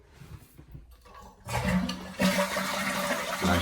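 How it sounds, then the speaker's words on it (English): A toilet with its water supply valve shut off is flushed: a brief handle clunk, then a loud rushing gush of water draining the tank, continuing with gurgling swirls up close. "flush the tank so that it is empty"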